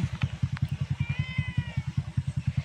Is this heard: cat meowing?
yes